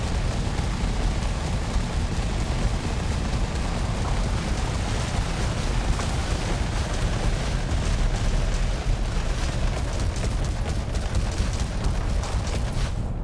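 Rapid, continuous fire from a huge multi-cannon in a video game pounds without pause, a dense rattling barrage of booming shots that stays loud from start to finish.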